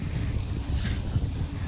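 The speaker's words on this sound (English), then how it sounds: "Oh, wind is brutal, fierce." Strong, fierce wind gusting on a cloudy day, roaring steadily as heavy low rumbling buffets against the microphone throughout, loud and close with no talking.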